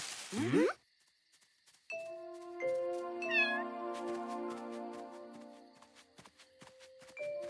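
A cartoon cat in the French animated series Flapacha lets out one quick, high meow, followed by soft chiming musical tones and light tapping steps.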